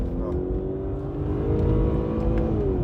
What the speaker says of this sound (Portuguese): Vou dar uma aceleradinha aqui.